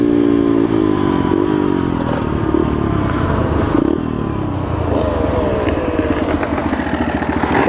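Dirt bike engines run steadily and loudly up close, buzzing and revving with shifting pitch and a faint rattle of clatter throughout.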